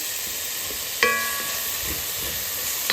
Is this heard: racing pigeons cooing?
no